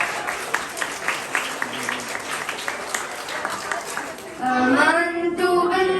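A crowd applauds with a dense patter of clapping for a few seconds at a graduation ceremony at an Islamic center in New York, then a voice starts speaking as the clapping fades.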